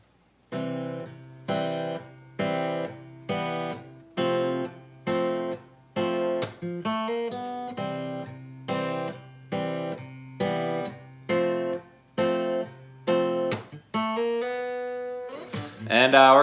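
Guitar picks out the opening riff of a song, a steady run of evenly spaced plucked notes and chords, clear and close, ending with a brief strum and no voice over it.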